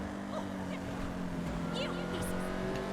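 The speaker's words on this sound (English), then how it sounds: "Let's see what it sounds like when it decelerates." A sports car engine in the video game GTA 5 Online hums and purrs steadily as it decelerates, with a low rumbling tone and faint higher whines over it, fairly close and continuous.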